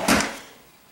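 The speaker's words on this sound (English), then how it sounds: "This is a heavy drawer here." A heavy tool chest drawer full of taps and dies slides open in one short, loud scraping rumble that fades out quickly, with no talk.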